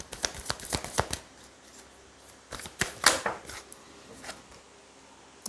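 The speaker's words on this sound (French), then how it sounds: "Allez, on va tirer 3 cartes." Tarot cards shuffled before a reading, a close series of crisp flicks and riffling slaps in uneven bursts with short pauses between them, and no talking.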